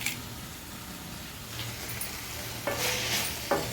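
Steady sizzling of ginger sautéing in a pan, with a couple of brief clinks of a utensil near the end.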